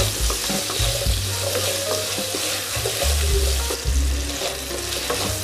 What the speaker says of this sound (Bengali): এবার আলুটা ভাজা ভাজা করবো।